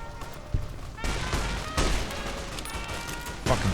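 Gunfire from a battle in the Fallout New Vegas video game: a few sharp shots and bursts at about half a second, one second and near the end, over a steady noisy backdrop.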